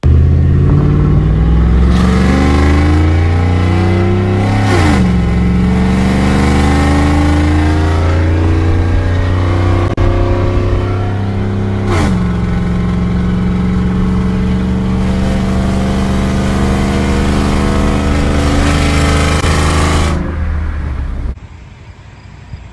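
A 2015 Chevrolet Silverado truck engine fitted with headers and no tune accelerates hard through several gear shifts, a loud, close, rising roar with drops between gears before easing off at the end.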